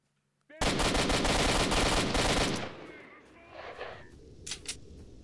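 Machine gun fire in S.T.A.L.K.E.R. Shadow of Chernobyl: a loud, close, sustained burst of rapid automatic shots lasting about two seconds, then trailing off into echo and a few quieter shots and clatter.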